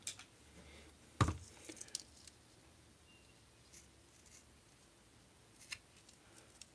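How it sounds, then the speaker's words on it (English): A single sharp snip of scissors trimming a candle wick, close and fairly loud, then a few faint rustles and small handling clicks in a quiet room. "I'm going to go ahead and cut this wick off too."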